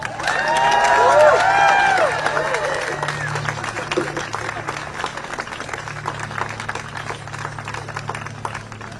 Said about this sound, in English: Let's hear another round of applause for Ray, Avinash, and Victor.